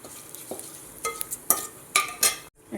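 Whole spices such as cinnamon, cloves and cardamom sputter in hot oil for paneer biryani, with a low sizzle broken by a few sharp crackles and stirring scrapes.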